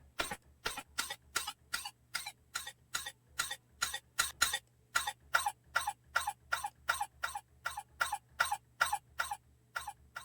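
A cough sample repeated in a fast, steady rhythm, looped and processed through an FM synth into a synthetic, pulsing pattern over a low hum, with no voices.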